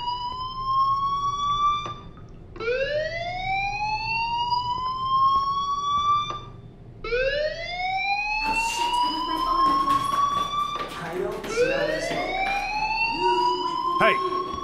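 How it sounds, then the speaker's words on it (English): Fire alarm in the Life is Strange video game, a loud electronic siren sweeping upward in repeated rising whoops, several in a row, with a student voice talking faintly underneath and a burst of louder noise near the end. "Hey, do you hear that fire alarm?"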